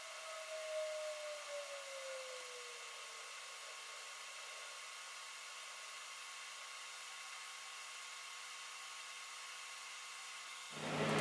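A hot air rework station blows steadily on an Xbox One X board to lift a chip, with airflow set around 4 to 5. The even, moderate rush runs for about eleven seconds with no talk, then swells briefly at the end.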